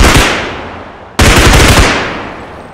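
Loud automatic bursts from an MP9 submachine gun in a zombie shooter game, two sustained rapid-fire strings back to back with a brief break near the middle, no talk over them.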